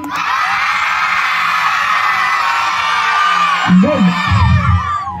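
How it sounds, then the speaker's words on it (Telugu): A crowd at a retirement function lets out a loud, sustained collective shout of "oy", lasting several seconds before trailing into scattered voices and murmur. "ఫస్ట్ ఒక గట్టిగా ఓయ్ వేయండి"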